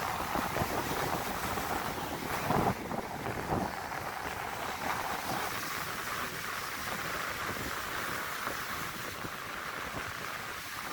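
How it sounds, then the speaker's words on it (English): Strong wind of at least 20 knots roars over Lake Superior near Ontonagon in Michigan's Upper Peninsula, a loud continuous rush buffeting the microphone, with water noise beneath and no voices. "That wind is just blowing so hard"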